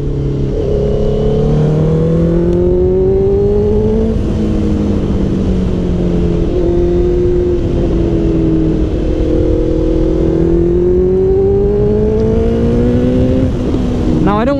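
A Honda CBR650R motorcycle engine revs steadily while riding, its rising and falling pitch loud and close throughout, with a rider speaking over it.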